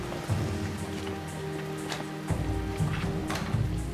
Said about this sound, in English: In the driving rain